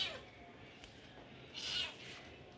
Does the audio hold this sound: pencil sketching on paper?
no